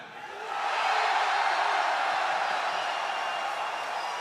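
Crowd noise fills a large arena at a Dota 2 All Stars match at The International 2017, swelling into sustained cheering for Team Dire that holds steady and loud throughout.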